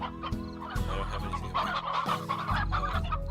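Chickens cluck in a ranch video game, several short bursts of clucking close by over a steady low background hum.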